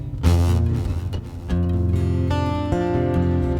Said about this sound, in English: what you're hearing right now is a blend between the piezo and the coil tap.